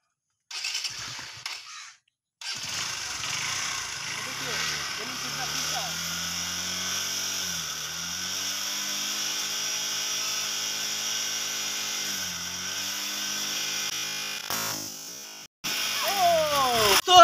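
A motorcycle engine runs steadily for about fifteen seconds while it inflates a balloon, a sustained droning hum with a shifting pitch. It stops briefly, then rises again at the end.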